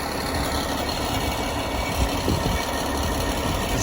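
An Army Humvee engine idles with a steady, low rumble and vibration, loud and close, with no break across the short stretch.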